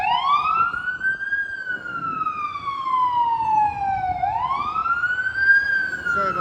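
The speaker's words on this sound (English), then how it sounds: "We've had no lack of sirens today" A loud emergency vehicle siren wails nearby, sweeping slowly up and down in long continuous cycles, with faint traffic rumble underneath.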